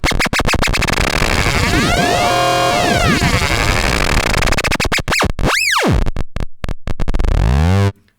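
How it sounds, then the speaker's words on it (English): A Moog Grandmother synthesizer oscillator sweeping through a wide pitch range, dense buzzing tones gliding up and down before dropping low into a sparse train of separate clicks, loud and unaccompanied. "Goes all the way down to the clicks."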